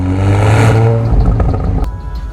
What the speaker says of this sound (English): the optional Akrapovic titanium exhaust system with its 4 pipes. Visually impressive, with a sound to match.